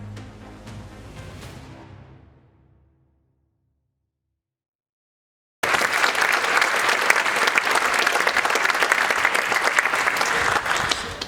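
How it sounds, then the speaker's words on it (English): At an awards ceremony, a short musical fade gives way to silence, then dense, loud audience applause fills the remaining seconds without a break. "let's give a final warm and welcomes applause to all of our honorees today"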